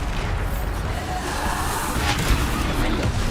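Bombarda blast spell explosions in the Hogwarts Legacy video game, a continuous loud rumble of booming bursts with a sharper crack near the end, dense and steady throughout.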